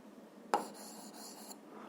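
A pen scratches briefly across paper while physics problem data is written down, making one sharp tap followed by a short, soft scribbling stroke in a quiet room.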